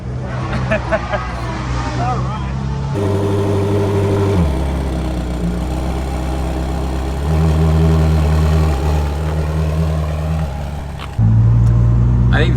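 Koenigsegg Jesko supercar running live at the Festival of Speed, its engine droning loudly and steadily with shifting pitch and a louder surge near the end, over faint crowd babble.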